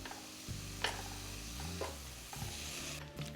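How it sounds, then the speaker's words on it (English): Bacon frying in a pan makes a soft, steady sizzle broken by a few scraping and stirring sounds, fairly quiet and without talk. "Now we're going to cook the bacon"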